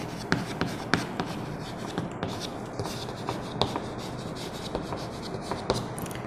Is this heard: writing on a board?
yes